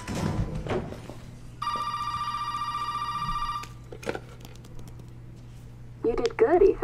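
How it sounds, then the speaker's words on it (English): A telephone rings in the survival horror game Resident Evil 7, a steady electronic trill lasting about two seconds amid quiet ambient game noise, with brief clicks and later voices from the game. "Of course the phone rings right now."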